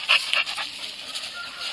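A dog pants close by in quick, breathy huffs, with a couple of sharper sniffs or whimpers at the start, over a soft background.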